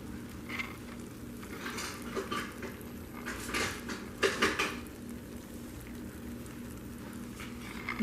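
Metal spoon clattering against pots and dishes while a corned beef meal with potatoes and Brussels sprouts is served from an Instant Pot, with a scatter of close clinks and scrapes over quiet kitchen background.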